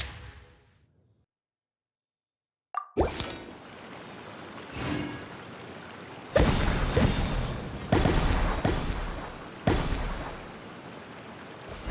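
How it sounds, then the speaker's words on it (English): Fireworks go off in Genshin Impact: after a short silence come sharp, loud booming bursts at irregular intervals, each trailing into crackling and rumbling, with the later blasts the heaviest. "Fireworks!"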